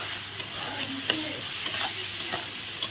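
A chicken curry base of turmeric, salt and a whole onion sautés in a pan, with a soft continuous sizzle broken by several scraping stirring strokes, fairly quiet and close.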